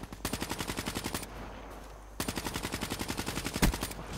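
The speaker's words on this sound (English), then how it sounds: "Trying to shoot my teammate." Rapid automatic gunfire from Call of Duty Black Ops plays as two fast, evenly spaced bursts separated by a short pause. The shots are close and loud, with a heavier crack near the end.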